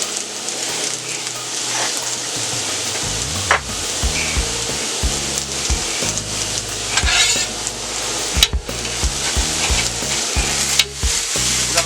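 Seasoned potatoes frying in a Steelmade pan, a loud continuous sizzle with scraping and stirring of a spatula, a few knocks and bumps as pieces are turned.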